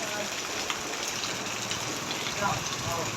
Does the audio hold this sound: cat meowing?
no